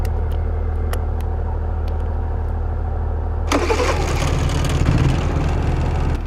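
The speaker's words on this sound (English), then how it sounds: "I've got to start the generator here." A steady low engine hum runs first, then a generator on a bus conversion cranks and catches partway through, adding a loud, rough, broadband running roar that continues to the end.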